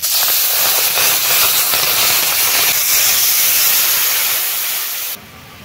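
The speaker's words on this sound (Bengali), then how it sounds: "এবারে তেঁতুল গোলা জল দিই" Tamarind water poured into hot oil with panch phoron, whole cumin and turmeric sets off a loud, continuous hiss of sizzling that fades slightly toward the end before dropping off sharply.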